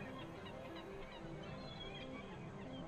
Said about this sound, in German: Ich höre aber schon Möwen.